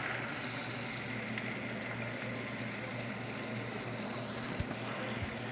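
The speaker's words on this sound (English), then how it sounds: "I used oil, quite a bit of oil, and some butter, and I'm just going to let those onions kind of just sit in there for just a few minutes." Onions fry in a generous amount of oil and butter, giving a steady, dense sizzle that holds evenly throughout, close and fairly loud, with a couple of faint clicks near the end.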